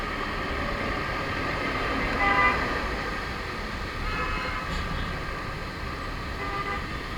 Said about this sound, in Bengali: হর্ন বাজাতে থাকো।